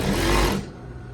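A sewing machine runs fast in a steady whir, stitching a seam in reverse as a backstitch while setting a sleeve on a zip-front lab coat, then cuts off about halfway through and goes quiet.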